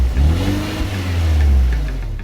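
A 2017 Fiat 124 Spider Lusso with its 1.4-liter turbocharged four-cylinder revs, giving a loud, close, deep engine drone that swells and eases over about two seconds with no talking.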